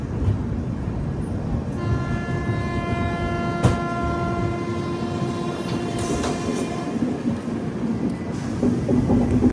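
Kirandul passenger train 58501 rolls through forested hills between Visakhapatnam and Araku. A steady, loud rumble of wheels on track carries a sustained tonal whine and one sharp metallic clank.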